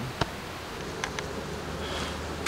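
Honey bees buzz at an opened beehive, with a steady low hum of many insects and a few brief passing sharper buzzes, fairly close, with no voices.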